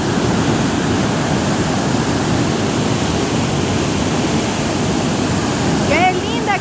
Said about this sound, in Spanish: ¡Qué linda cascada!